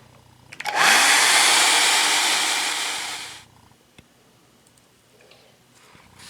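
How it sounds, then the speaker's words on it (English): A hair dryer blows hot air onto a sticker on a Tomy Verbot toy robot to loosen it, a loud steady whooshing roar that starts abruptly, runs about three seconds, then fades and cuts off, leaving quiet room noise. "Try getting the sticker off with a hairdryer"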